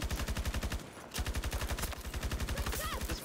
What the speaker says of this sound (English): the shotgun